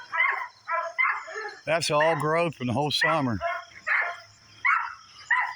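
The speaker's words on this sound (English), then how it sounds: "That's the King dog." King, a rescue dog in an overgrown backyard, lets out a run of loud, close, yelping barks in the middle while someone talks before and after them.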